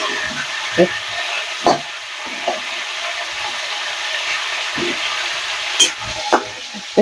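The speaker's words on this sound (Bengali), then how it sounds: "যেমন কপিগুলো ভাজবেন, যাতে কপিগুলো এই ভাজার সময় আপনার অর্ধেকের বেশি হয়ে যায়" Cauliflower pieces fry in a pan with a steady close sizzle and hiss, broken by several sharp scraping knocks as the florets are stirred and turned.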